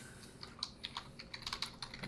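Quick bursts of keystrokes on a computer keyboard, close and fairly quiet, an uneven run of clicks with no voice over them.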